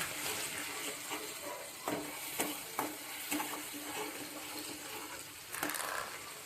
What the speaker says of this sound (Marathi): जिरं चांगलं फुललं की त्यात कांद्याची पिवळी टाकून द्यायची चांगली हलवून द्यायची